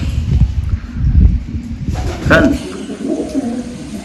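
A pigeon that has flown inside a farm well coos in low, repeated soft calls, heard alongside light rustling and someone talking nearby in an outdoor farm setting.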